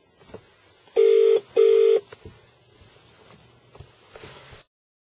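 Two short electronic dialing tones beep in quick succession from a Bluetooth car kit placing a call, followed by a quiet line hum with faint clicks.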